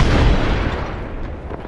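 A frag grenade goes off in a shooter video game with a single loud, close blast that rumbles and slowly decays over the following second and a half.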